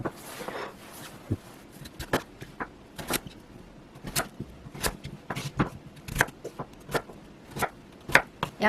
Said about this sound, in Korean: 무는 먹기 좋게 두툼하게 썰어주세요